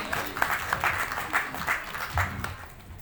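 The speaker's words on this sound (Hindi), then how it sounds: "तालियों में कहीं ना कहीं कोई कमी है।" An audience claps at a women's honour ceremony at Kurukshetra University, moderate applause from a crowd that carries on steadily and fades toward the end.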